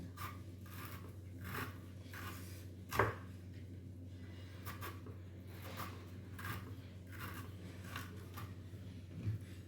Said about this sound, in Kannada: ಸ್ವಲ್ಪ ಸಣ್ಣ ಸಣ್ಣ ಹೋಳುಗಳಾಗಿ ಕಟ್ ಮಾಡ್ಕೋಬೇಕು